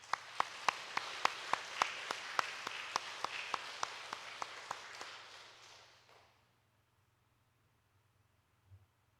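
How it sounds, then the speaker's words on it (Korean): A church congregation claps in welcome during a Sunday worship service: steady, rhythmic claps keep an even beat for about six seconds, then stop, leaving a low quiet hum. "우리 환영의 박수로 맞이하도록 하겠습니다"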